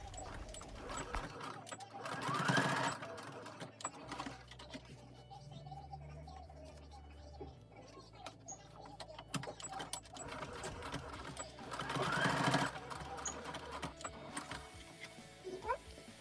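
A sewing machine stitches the sides of fabric headband ear savers for face masks in two short, rapid whirring runs, close by, separated by quieter handling and clicks, with some talking in between.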